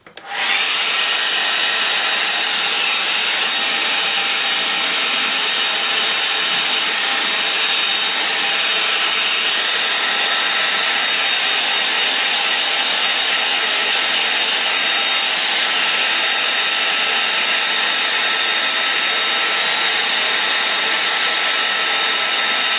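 A hair dryer blows steadily and loudly for over twenty seconds to dry something, a close, constant broadband whoosh with no talk.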